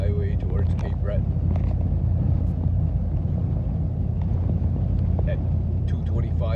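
Car on a highway toward Cape Breton, Nova Scotia, during a snowstorm: a constant loud low road and wind roar from inside the vehicle, with people talking over it.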